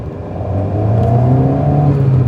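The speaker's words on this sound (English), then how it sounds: "That sounds like induction roar." An Alpine A110 engine roars as the throttle is pressed, a loud, deep induction growl that swells and holds steady inside the cabin for about two seconds, with no talk over it.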